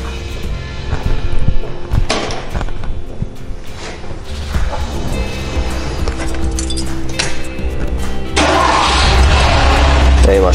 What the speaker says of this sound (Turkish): Şimdi bir marş yapalım abi.